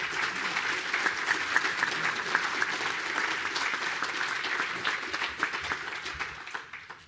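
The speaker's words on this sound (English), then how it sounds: "heavy round of applause now" A conference audience gives a sustained round of applause for a NASA panel, many hands clapping in a thick, even roar with scattered sharper claps, holding steady before fading away at the very end.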